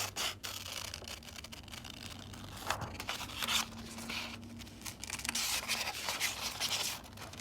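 Scissors snipping through printed paper faces for Halloween bin decorations, a steady run of close rustling cuts and paper scraping with no talk.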